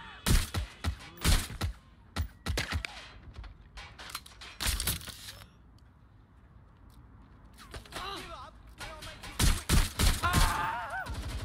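Gunfire erupts in the action game Watch Dogs Legion, sharp loud shot bursts in rapid clusters, close and punchy, easing into a quieter lull before more volleys crack out again with groans mixed in.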